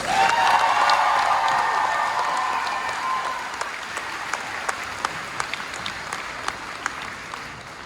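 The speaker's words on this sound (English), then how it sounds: "Can we give them another round of applause?" A graduation audience claps in a full, dense round of applause that swells loudly at first, then slowly thins into scattered, separate claps toward the end.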